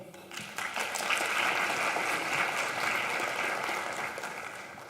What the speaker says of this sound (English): give a round of applause to the TEDx team